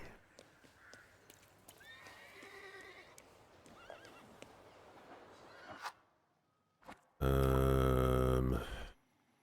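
Horses whinny and neigh several times amid effects and footsteps in the video game The Thaumaturge, ending with a loud burst of noise.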